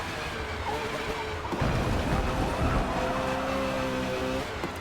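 A race car in a racing video game on a wet track on wet tyres, with a steady loud engine roar and tyre hiss, a sharp shift midway, then a rising engine whine near the end.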